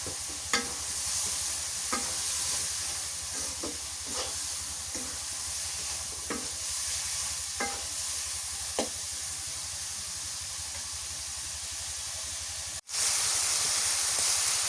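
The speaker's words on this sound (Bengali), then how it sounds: "মাছের মাথা দিয়ে কষান করে নিই ভালো" Fish head fries in a pan over a clay stove, with a steady sizzle throughout and sharp scraping stirs from a utensil at irregular intervals, fairly quiet, with a brief dropout near the end before the sizzle returns louder.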